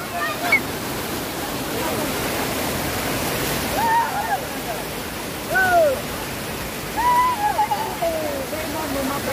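Water overflowing from the village lake at Pulamithi, a steady broadband rush of flowing water that fills the whole clip, with a voice briefly rising over it several times.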